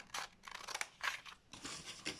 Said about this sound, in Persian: از سمت خط آمپیژام به سمت خط پهلو قیچی بزنین